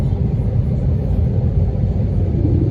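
Deep, steady cabin rumble of an airliner descending to land, a loud low drone with constant texture and no voices.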